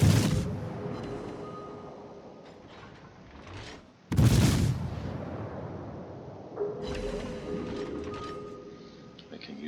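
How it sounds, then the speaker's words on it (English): Naval guns firing from the Neptune cruiser in World of Warships, two deep booming salvos with long rumbling decay, the second louder, followed by a lighter distant thump, with someone speaking faintly underneath. "so I went ahead and took a couple shots"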